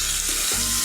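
A water-based paste of cumin, turmeric and chilli hits fried potatoes in hot oil, giving a sudden loud hissing sizzle with a brief splutter in a short burst.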